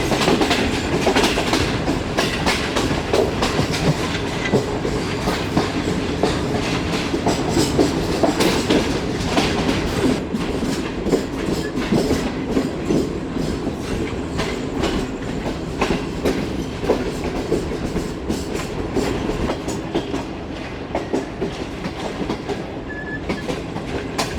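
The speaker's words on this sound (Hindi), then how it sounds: "ये रावी ब्रिज के ऊपर से उतर रही है हमारी ट्रेन इस वक्त" The Shalimar Express rolls across the Ravi bridge between Karachi and Lahore, its wheels clattering in a dense, loud, unbroken rhythm with steady rumble heard from aboard the train.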